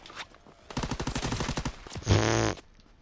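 Rapid automatic gunfire in Call of Duty: WWII rattles off in a sustained burst, followed by a louder, denser blast of shots near the end.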